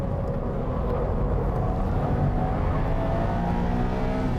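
A race car on a fast lap drones with a low, rumbling engine note and rising revs, heard steadily from inside or close by without a break, with no voices.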